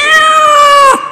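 A game buzzer at a JavaScript conference quiz show sounds off with one loud cat meow, about a second long, clear and alone.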